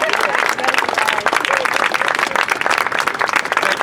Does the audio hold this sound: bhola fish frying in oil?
no